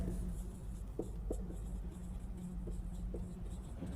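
Marker strokes on a classroom board during an English grammar lesson, a few short soft squeaks and taps spaced over a steady low background hum, faint and without speech.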